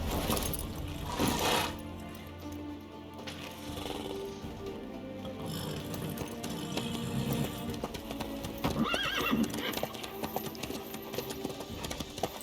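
Horse hooves clip-clop steadily in The Witcher, with a horse neighing and whinnying near the start and again later, against a busy layered game soundscape, with no talk over it.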